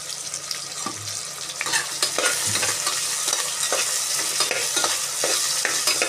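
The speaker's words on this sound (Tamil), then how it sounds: "அதோட சேர்த்து தக்காளி பழத்தையும் போடணும், போட்டு நல்லா வதக்கிக்கும்" Tomatoes sautéing in a pan with green chillies for goat thonjal curry, a continuous loud sizzle with repeated scraping stirs of a spoon against the pan, no talking.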